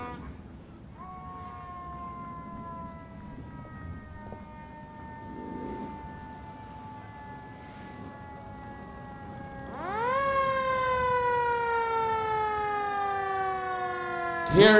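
A Station 32 Fire Department siren escorting a parade grand marshal through the Azusa Golden Days Parade, a long wailing tone gliding slowly down, then surging louder as a second siren winds up and falls, echoing over a quiet street.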